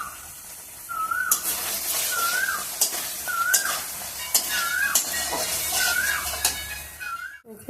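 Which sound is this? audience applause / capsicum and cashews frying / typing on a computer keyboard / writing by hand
capsicum and cashews frying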